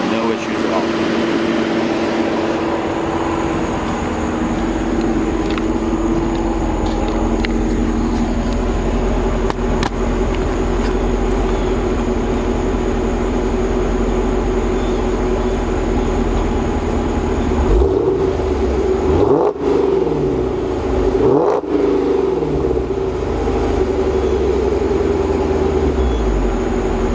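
The supercharged 2012 Dodge Challenger SRT8 with a K&N air filter and Corsa exhaust idles with a steady low rumble and a whine, then gives a few short revs near the end. Someone talks over the engine.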